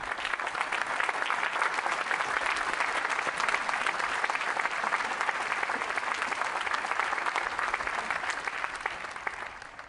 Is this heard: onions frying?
no